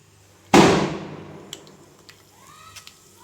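Mustard seeds, urad dal, chana dal and curry leaves hit hot oil for a tempering with one sudden loud sizzling burst that fades over a second, then a few faint scattered pops.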